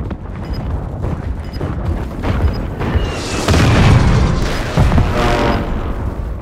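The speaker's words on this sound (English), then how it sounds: "Enemy precision airstrike!" Precision airstrike explosions in Call of Duty, a rolling series of loud, deep booms and rumbling blasts that swell and fade in waves, with no talk over them.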